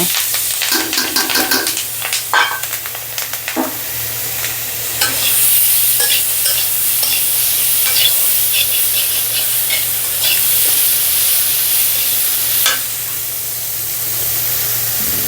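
Chopped onions and chillies hit hot oil in a pan with fried pumpkin, setting off a loud, dense crackling sizzle that carries on steadily, with stirring scrapes early on. No voices.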